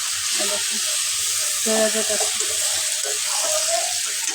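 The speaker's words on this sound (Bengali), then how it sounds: "ফ্রাই প্যানে ভাজা ভাজা করতে হইব" Fish fries in a frying pan with a dense continuous sizzle, while faint tonal sounds like a voice or utensil drift underneath.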